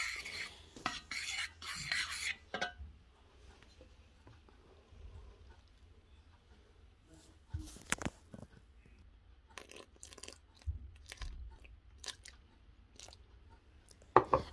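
A spoon mixes whole wheat flour and water in a bowl for balloon bread dough, with soft wet stirring, scattered scrapes and clinks against the bowl, quiet and close.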